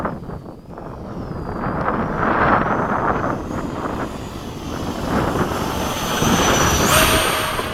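A solo F-16 fighter jet flying past with afterburner at LFE, a loud, steady roar that swells and holds with rushing wind noise, without any voices.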